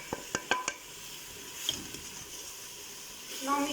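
Masala spices frying in oil in a pan, a soft steady sizzle with a few sharp utensil taps at the start and a brief louder scrape near the end.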